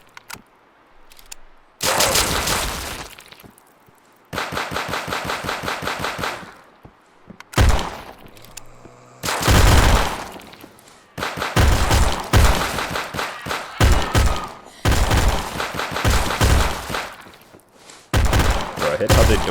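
Repeated bursts of TP9 SFX submachine gun fire in Those Who Remain, loud close rapid volleys separated by short pauses and occasional thuds, with a voice briefly talking between bursts.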